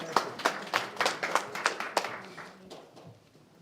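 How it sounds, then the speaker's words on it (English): A small board of education meeting audience gives a short round of applause, about a dozen distinct claps from a few hands, fairly close, thinning out and fading away over the last second. "let's give him a round of applause"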